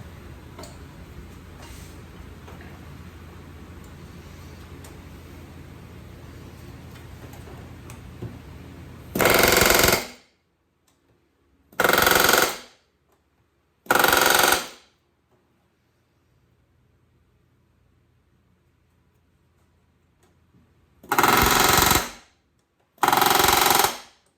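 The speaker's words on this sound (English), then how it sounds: "I'll just move it back and forth over the back riveting plate to make sure that, just making sure that you're always on the back riveting plate" Rivet gun back riveting on an RV-10 aircraft fuselage, loud rapid hammering bursts of about a second each, five in all with quiet gaps between, after a steady low background hum, no talk.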